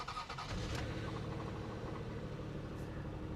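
A $550 Toyota Camry engine runs at a low, even idle after a brief rougher burst at the start, heard faintly at a distance with no talk.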